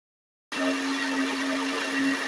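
An electric blender whirs on abruptly, mixing the wet ingredients for a vanilla cake, a steady close motor drone with a constant hum that runs unchanged to the end.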